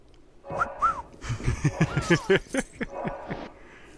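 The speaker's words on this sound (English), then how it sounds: "So I failed a wolf whistle." A human wolf whistle attempt, a couple of short rising and falling whistled notes that come out broken and uneven, mixed with a quick burst of clicks and game sounds over a faint hum.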